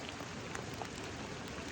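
Rain falling steadily in a redwood forest, a dense, even patter of drops close around, with no other sounds.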